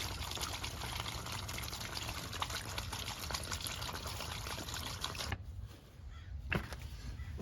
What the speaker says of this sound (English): Okay, so we've turned the water on